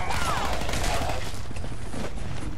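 Rapid automatic gunfire from a low-recoil gun in Fallout 4, a loud continuous burst of shots running the whole stretch with no pauses, alone without talk.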